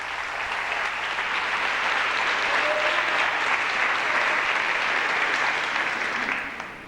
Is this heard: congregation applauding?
yes